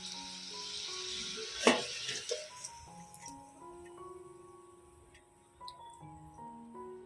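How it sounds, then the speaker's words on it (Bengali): Bread and milk powder rose sweets sizzle as they fry in hot oil, a soft steady crackle with a brief sharper burst near the start, heard beneath a melodic tonal backdrop. "একইভাবে সবগুলো ভেজে নেব"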